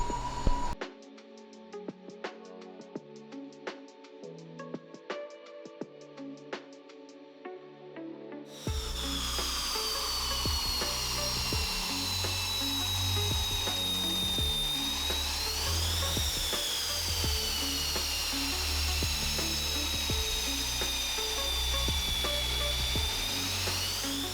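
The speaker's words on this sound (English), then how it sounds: "this is a mini turbine that they use to start the plane, because the plane doesn't have a starter on it" Mini turbine starter used to spin up a fighter jet's engine whines up in a steady high-pitched rise, loud and close, after a quieter stretch of clicking and mechanical ticks, then holds a sustained shrill tone with a brief pitch dip.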